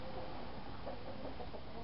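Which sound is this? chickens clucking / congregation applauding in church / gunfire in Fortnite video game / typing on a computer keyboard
chickens clucking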